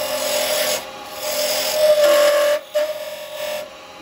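Lathe woodturning of a tenon on the end of a wooden blank, a steady rasping, scraping cut with a faint whine, pausing briefly a few times, close and without talk.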